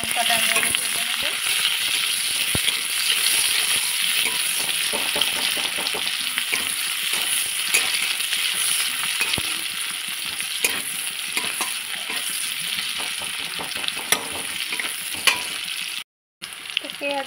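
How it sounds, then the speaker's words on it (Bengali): Onion and green chilli fry in oil for a home-cooked dish, a dense, continuous close sizzle with frequent spoon-stirring scrapes and crackles, brief pause near the end, no voices. "পেঁয়াজ আর লঙ্কাটা আমি ভেজে নেবো।"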